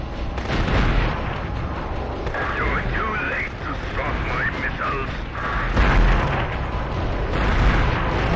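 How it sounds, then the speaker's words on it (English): Booming missile blasts from the PlayStation game Future Cop L.A.P.D. roll on continuously through the whole stretch, loud and dense, with game music and voices mixed in. "You're too late to stop my missiles."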